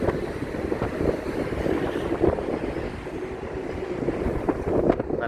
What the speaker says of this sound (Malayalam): നല്ല തണുത്ത കാറ്റാണ്, നല്ല അന്തരീക്ഷമാണ്.